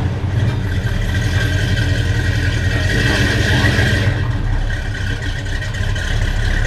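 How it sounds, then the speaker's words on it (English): A car engine runs for the first time after repairs, a continuous loud idle with a steady low rumble and rough mechanical drone, close by and unbroken, with no talk over it. "We're just gonna start it."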